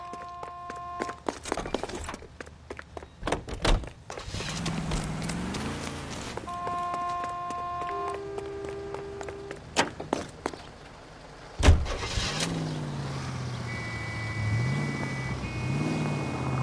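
A car in the L.A. Noire video game, with a door slamming and the engine revving and shifting through gears. A few footsteps and clunks come first, and the engine keeps rising and falling after a sharp thud near the end.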